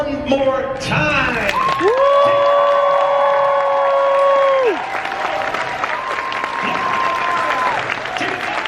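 Audience at a horror fan convention panel claps and cheers together, sustained loud clapping topped by long, high whooping voices that rise and fade over the crowd noise.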